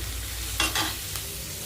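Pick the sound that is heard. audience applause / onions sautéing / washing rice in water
onions sautéing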